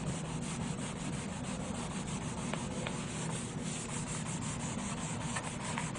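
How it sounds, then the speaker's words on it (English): Hand sanding of damaged paint on a car body near the air deflector, with sandpaper producing a continuous close, steady scratchy rubbing in quick back-and-forth strokes and no talking. "what we're going to do is sand for a little bit here, work our way down to the end of the air deflector"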